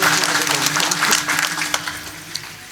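An audience at a religious discourse claps together, a dense, fairly loud burst of applause that fades a little toward the end.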